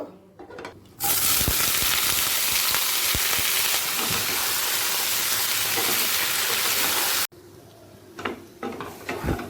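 Jackfruit pieces frying in mustard oil, a loud, dense sizzle that starts suddenly and holds steady, then drops to quieter crackling and clinks near the end.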